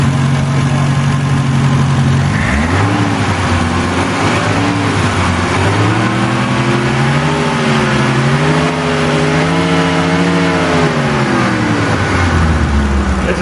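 A rebuilt car engine idles loud and close with a smooth, steady hum, its pitch dipping and swelling in gentle revs as it runs with no one speaking.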